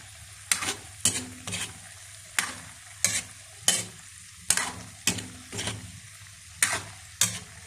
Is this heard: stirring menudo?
yes